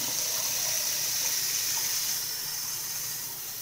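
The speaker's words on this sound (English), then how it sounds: "add some water to here." Water runs steadily into a bowl of cut raw potatoes being prepared for homemade french fries, a continuous loud hissing gush from a faucet that eases slightly toward the end.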